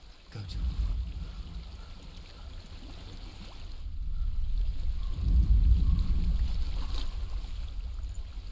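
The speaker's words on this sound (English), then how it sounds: "I hear water. Go to it." Flowing stream water in the video game Hellblade: Senua's Sacrifice, a steady rushing wash that swells louder midway, with low rumbling underneath and no voices.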